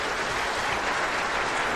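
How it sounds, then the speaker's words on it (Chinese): A short burst of steady audience applause in a concert hall after a violin performance, even and moderately loud from start to finish with no speech on top. "再一次用热烈的掌声感谢您"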